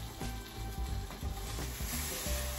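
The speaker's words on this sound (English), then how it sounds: "We're gonna put more peppers here on this already very hot skillet." Peppers sizzle hard on a very hot cast iron skillet, a dense close crackling hiss with a few stirring knocks and scrapes.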